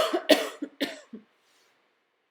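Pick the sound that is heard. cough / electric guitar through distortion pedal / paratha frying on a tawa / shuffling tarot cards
cough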